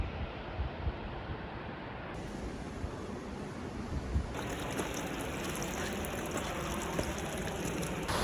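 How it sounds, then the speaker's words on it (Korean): Waterfall on a mountain trekking trail, heard as a constant broad rushing roar of falling water that stays steady and fairly loud throughout, with no voices over it. "앞에 폭포가 보인다"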